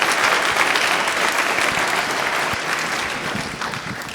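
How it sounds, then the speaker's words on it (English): A conference audience at a UK electric-truck freight event breaks into a sustained round of applause, dense clapping held steady and loud for the whole stretch with no voices on top. "Big round of applause for David, please."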